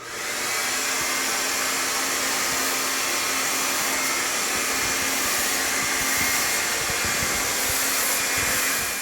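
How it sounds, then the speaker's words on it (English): A hair dryer roars steadily and loudly throughout while hair is blow-dried with a round brush, a constant close whoosh with no pauses. "when I blow dry everything with the round brush"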